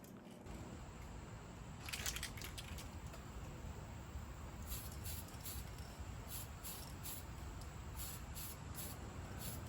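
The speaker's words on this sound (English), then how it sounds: "I'm giving it little light bursts of paint" Short hissing bursts from a spray can of primer paint, several quick light sprays spaced out, fairly faint against quiet outdoor background.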